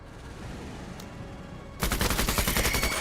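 Units firing in the video game Menace: after a low ambient stretch, a loud burst of rapid, overlapping gunshots erupts and continues densely to the end, close and sharp.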